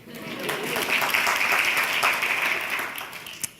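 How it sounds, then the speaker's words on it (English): A crowd claps together for a few seconds, building quickly and fading out with a few last claps. "Round of applause."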